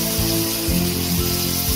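Potatoes hitting hot oil spiced with red chili powder, giving a steady loud sizzle and crackle for a couple of seconds, with no voices over it.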